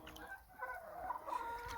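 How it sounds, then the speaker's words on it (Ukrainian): Soft clucking from an old rooster among chickens, faint and somewhat distant, with quiet farmyard ambience. "Це мій старий півень."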